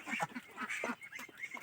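Young Khaki Campbell ducks about two and a half months old, part of a flock of around two hundred, giving a run of nasal, honking quacks in quick, uneven succession, close and fairly loud.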